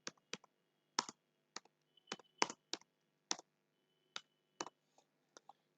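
Keys clatter in short irregular bursts as text is typed on a computer keyboard, crisp and close in a quiet room with pauses between taps.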